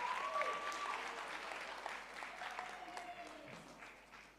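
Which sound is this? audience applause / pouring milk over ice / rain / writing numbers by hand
audience applause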